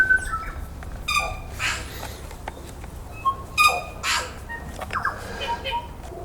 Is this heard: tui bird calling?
yes